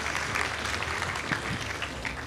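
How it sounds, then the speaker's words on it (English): An audience at a World Giraffe Day event claps for a student, a brief, even patter of applause heard from a little distance and fairly soft. "let's clap for her"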